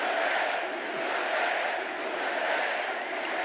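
A crowd at a Trump rally shouting together, a dense, sustained roar of many voices heard from a distance, steady throughout without a break.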